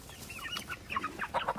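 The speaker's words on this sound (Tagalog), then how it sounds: "Yan ang aming mga manok." Rhode Island Red and other farm chickens cluck softly in a rural Philippine yard, a scattered run of short, quiet calls that grows a little busier toward the end, with no talking over them.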